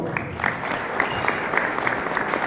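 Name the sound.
audience applause for the musicians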